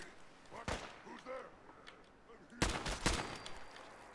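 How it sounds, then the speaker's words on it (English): Two separate gunshots from a secondary weapon in Fallout 4: a sharp crack early on, then a louder double report later, each followed by a short echo, with someone talking quietly in between. "Didn't need to fire two shots"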